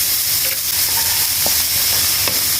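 Chopped onion and chili fry in a pan, making a loud, steady sizzle with soft stirring clicks close by and no talking.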